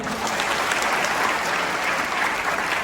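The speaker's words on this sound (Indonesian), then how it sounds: "tepuk tangan semuanya" A crowd of students and parents at a high school parenting event in Semarang bursts into continuous, dense applause, a loud, even roar of clapping throughout with no clear talk.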